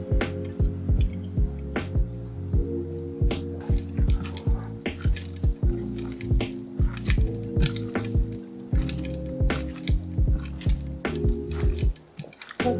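Garlic bits are mixed into a citrus pork marinade with repeated light ticks and clinks of a utensil against a bowl, falling in an irregular rhythm over a low, steady hum.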